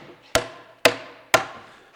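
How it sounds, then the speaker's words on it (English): Three sharp, evenly spaced blows of a mallet driving a 2-inch chisel into wood during hand-tool mortising, each strike a loud close crack with a short decaying ring. "you can really drive the chisel in there"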